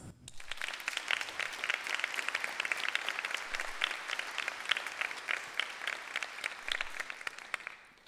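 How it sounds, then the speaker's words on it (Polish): A concert audience applauds at a 45th-anniversary show by a Polish band, with bright, continuous clapping that swells quickly and holds steady for several seconds before easing slightly. "Także brawa od nas dla was."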